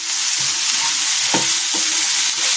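Cucumber pieces with tamarind stirred in a pan, a loud constant sizzle with a few short spatula scrapes and knocks, no voices.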